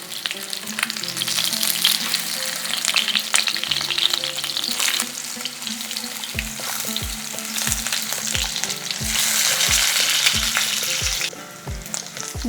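Fish frying in hot oil after being turned, a dense close sizzle and crackle that swells midway, with a run of regular low knocks in the second half, no talking.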